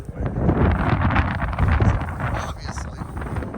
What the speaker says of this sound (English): You can probably hear the wind blowing right now.